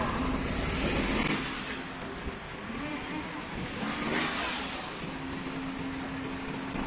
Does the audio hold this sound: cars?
yes